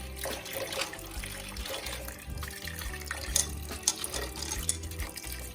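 Water pours and trickles steadily into a pot of salt fish, with faint clinks and splashes over a low background hum.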